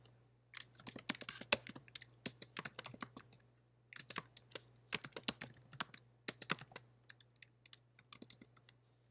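Bursts of rapid keystrokes on a computer keyboard, close and clear, with short pauses between runs of typing over a steady low hum; no voices.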